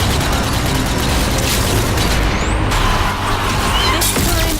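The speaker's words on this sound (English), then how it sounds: "Some grenade throwing." Grenade explosions in the zombie shooter Zombie Army 4: Dead War, loud dense booms and crashing blasts layered into a continuous wall of battle noise.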